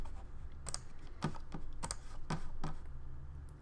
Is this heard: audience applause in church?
no